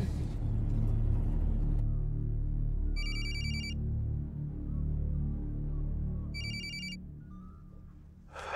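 A telephone rings in two short electronic bursts a few seconds apart, over a low steady rumble in a quiet indoor scene with no talking.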